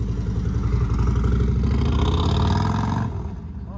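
A 2020 Harley CVO Street Glide with Wilbers fitted rides past on a test run, its exhaust a loud, steady, deep rumble that drops off abruptly near the end.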